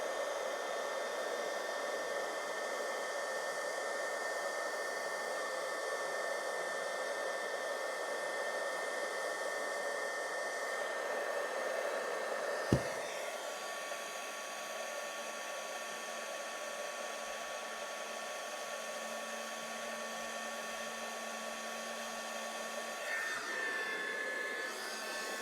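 A heat tool melting embossing powder for a faux enamel effect blows a steady, close, hair-dryer-like whoosh that runs continuously, with a brief click midway and a change in pitch near the end.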